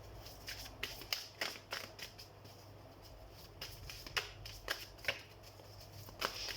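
A deck of tarot cards shuffled by hand in a steady run of soft riffling flicks and snaps, close and fairly quiet against a faint low hum.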